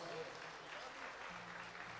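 Audience applause at a live music show, a brief, fairly faint wash of clapping with some voices in the background.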